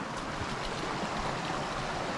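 A creek flows beside the Natural Arch Trail in Colorado's San Isabel National Forest, giving a steady, close, broadband rush of running water that stays even throughout with no voices.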